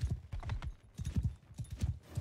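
Horse hooves clip-clop across the ground in a medieval battle video game, a quick, steady galloping rhythm that stays fairly faint and plays on its own without talk.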